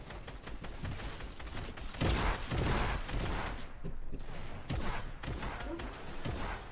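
Video game gunfire: repeated bursts of shots crack out in a busy, loud exchange, with several heavier volleys standing out amid continuous background noise.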